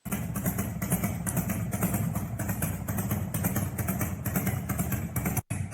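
A Harley-Davidson motorcycle engine idles steadily nearby, a loud continuous low rumble with a rough pulsing texture, cutting out briefly near the end.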